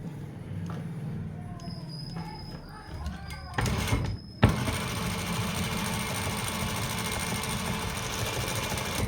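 After the bobbin is refilled, a sewing machine starts up again with a clunk and settles into a continuous, even mechanical drone, preceded by quiet talking and fabric handling.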